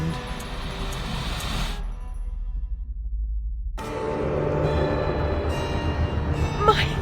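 Train rolling along in the game Alice: Madness Returns, a steady low rumble of wheels and carriage with a brief drop to near silence before the noise returns fuller, a faint ringing tone near the end.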